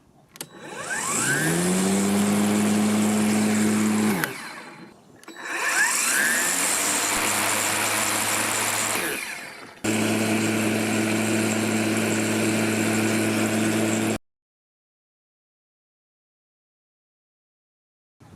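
A Parkside PRMA 20-Li A1 20V cordless 33cm lawn mower motor starts up and whirs steadily with a strong low hum, cuts out briefly, restarts, runs loud for several seconds, then stops abruptly into silence.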